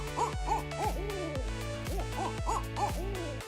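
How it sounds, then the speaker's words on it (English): A barred owl gives its hooting call, a series of rhythmic, descending hoots in close succession, clear and fairly loud against a quiet background. "Large nocturnal birds called barred owls are perhaps most recognized for their distinctive calls"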